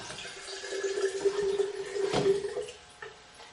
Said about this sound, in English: I'm going to put some more of my spring water in.